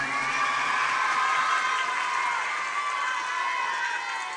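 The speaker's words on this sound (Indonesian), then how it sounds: "Tepuk tangan anak-anak untuk Bupati kita yang keren." A large group of children cheers and claps for a regent at a religious gathering, a dense, sustained wall of shouting and applause.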